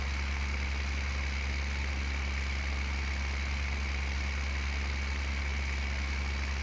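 Tractor engine idling in the Farm Sim video game, a constant low, steady drone with an even hum and no change in pace, heard alone without talk.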